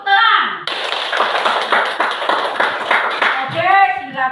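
A classroom of children claps hands in a quick, steady burst of close, loud claps at a teacher's prompt, with children's voices heard before and after.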